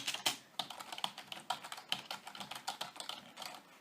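Quick, continuous typing on a SteelSeries Apex gaming keyboard gives a dense run of sharp key clicks at an even pace, close and fairly quiet with no talking.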